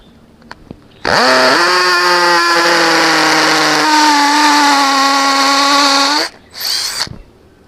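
A Thai presenter's iMac-brand hammer drill, set to impact mode, bores into concrete with a loud, steady whine and rattle lasting about five seconds, then stops and gives a short final burst.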